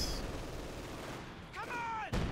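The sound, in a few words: artillery gunfire in video game Company of Heroes 2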